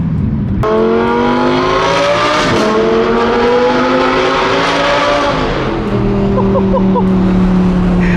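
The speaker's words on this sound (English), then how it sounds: "it sounds like an F1 car" A loud Audi R8 sports car engine with a new exhaust revs hard, climbing and dropping in pitch through several throttle blips, close by and dominating.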